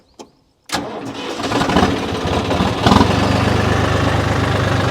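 A John Deere tractor fitted with a 10-foot rotavator cranks over with a short starter burst, then its engine catches and settles into a loud, steady running drone that swells slightly before holding.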